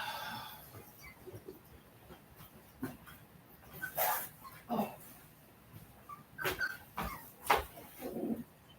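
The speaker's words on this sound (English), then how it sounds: "Here's the puppies. These are Street's puppies. There's 10 of them in here." A litter of ten puppies whimpers and yips, with soft faint cries and sharper yelps scattered unevenly, some breathy panting between, all fairly quiet and close.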